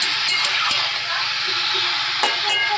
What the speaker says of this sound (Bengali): এই যে আলু দিয়ে এবার আমি ভালো করে কষিয়ে নেবো